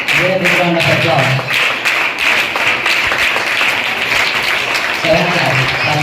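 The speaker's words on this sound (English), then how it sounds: "Give a big round of applause." Crowd applause at a school National Mathematics Day prize ceremony, steady dense clapping filling the room for several seconds with a voice speaking faintly underneath.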